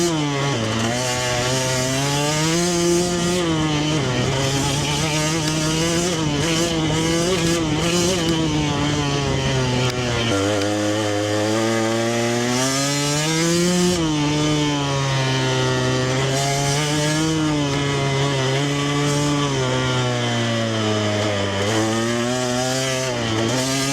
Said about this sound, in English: I've almost forgotten what it's like to ride my gas